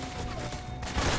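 Gunfire in the video game Metal Gear Solid 3 comes as a dense, loud burst of rapid shots running together, close and continuous through the short stretch.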